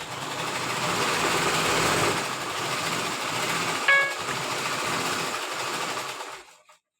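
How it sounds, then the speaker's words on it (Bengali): A sewing machine runs steadily under a mother's hands, a fast, continuous mechanical whir close by with one brief tick partway through, before it trails off into silence. "মা মেশিন চালাইতেছে দেখে তাই এমন সব যাইতেছে"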